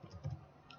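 Keystrokes on a computer keyboard as a short word is typed into a Python program, a few soft close clicks in a quick cluster with no talk.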